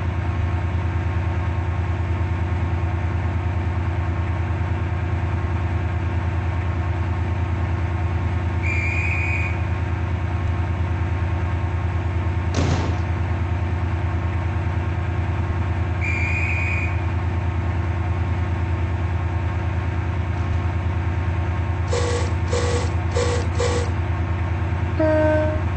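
A Class 68 train in the Roblox game Stepford County Railway runs with a steady loud engine drone, two short horn-like tones, a sharp click midway, and a burst of quick repeated chimes near the end.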